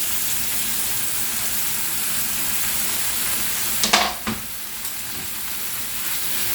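Onion fries with meat for Azerbaijani plov, a loud, steady sizzle with a few clanks of a utensil stirring the pan partway through.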